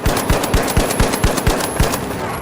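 Rapid, evenly spaced semi-automatic shots from the long-range LH1 rifle in the video game The Finals, about eight sharp cracks in two and a half seconds over a steady game background.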